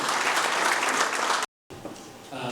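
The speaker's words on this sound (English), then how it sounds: "A round of applause to Justin Perry" A round of applause at a pitch night in Harare, loud and continuous, broken by a brief silent gap before resuming more thinly.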